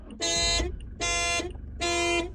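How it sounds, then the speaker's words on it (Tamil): A Toyota Fortuner's car alarm sounds after the door is opened, giving three loud, even, buzzing honks in quick succession, close by and with no voices. "ஒன்ஸ் டோர் ஓப்பன் பண்ண பிறகு காரோட அலாரம் ஸ்டார்ட் ஆயிரும்"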